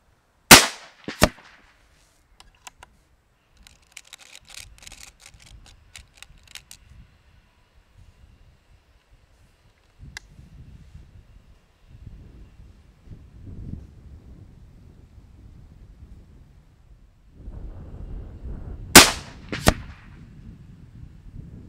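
Sharp reports from an Ataman M2R .35 caliber PCP air rifle: one loud crack at the start, another just after, and a third near the end, separated by quiet stretches with faint rustling and handling noise.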